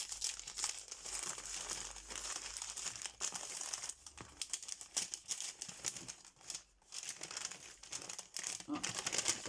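Gift wrapping paper printed with Happy Birthday banners crinkles and rustles steadily as a present is unwrapped up close, with dense bursts of crumpling and occasional tearing throughout.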